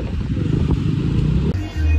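A crowd of motorcycles at a bike rally in Jalandhar, their engines rumbling loudly and close under chatter, with a deeper engine note swelling in near the end.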